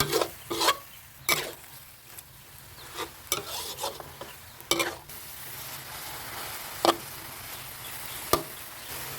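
Rice vermicelli is stir-fried in a pan over low heat for old-style red noodles, with repeated scraping and tossing strokes over a soft, steady sizzle, close and without talking.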